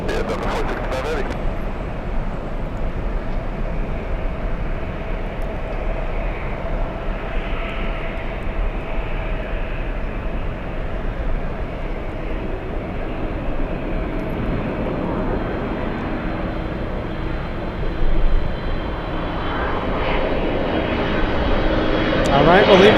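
A Boeing 757 jet at LAX gives a loud, sustained engine roar that swells slightly toward the end, while people talk over it.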